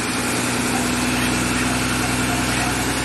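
Diesel engine of a harvesting machine idling just after starting, fitted with a new exhaust tailpipe, a loud, steady, close drone with a constant low hum throughout.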